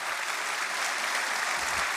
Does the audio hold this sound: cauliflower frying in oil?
no